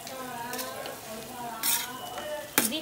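Tomatoes hitting a pan of softened onions for prawn curry, a close, steady low sizzle with bursts of louder crackle and a sharp utensil clink near the end.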